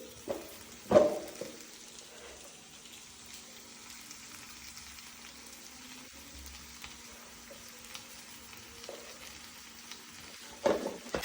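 Gooseberries sautéing in a pan, a faint steady sizzle with a few louder clatters of stirring near the start and end, and no talking.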